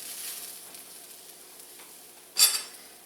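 Vegetables for a shaved rib eye sub fry on a hot griddle, a steady close sizzle running throughout, broken near the end by one sharp scrape or clatter of a utensil against the metal surface.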